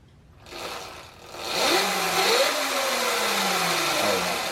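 Sur Ron Light Bee electric dirt bike motor under throttle, its whine rising and sliding in pitch as power comes on and holds, close and steady with no voices.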